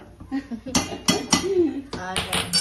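Fish pieces dropping into a cooking pot, several clanking metallic hits and clatters in quick succession, close and fairly loud, with a voice speaking in between.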